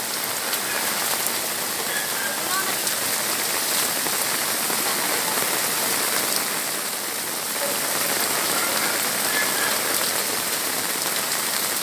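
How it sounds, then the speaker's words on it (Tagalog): Heavy rain pours down steadily in a dense, loud hiss of drops striking surfaces, continuous throughout with no voices. "Lakas ng ulan dito sa amin,"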